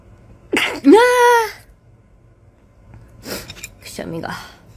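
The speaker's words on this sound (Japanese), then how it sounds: "くしゃみが。" One sharp sneeze from a woman on a Japanese live stream, a quick intake followed by a loud burst, and then she speaks briefly a few seconds later.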